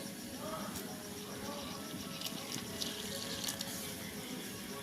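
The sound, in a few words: water poured into dough while mixing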